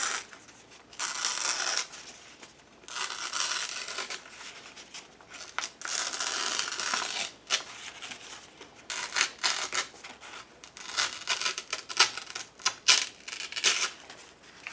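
A page from an altered book is torn slowly by hand toward the tearer, making bursts of dry ripping and rustling paper that stop and start with short pauses, close and fairly loud, no talking.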